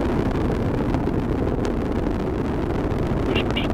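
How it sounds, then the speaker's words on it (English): An Atlas rocket carrying OSIRIS-REx roars in a continuous, dense, low rumble heard from a distance, steady and unbroken throughout with a wind-like texture. "the Atlas rocket carrying OSIRIS-REx has gone supersonic"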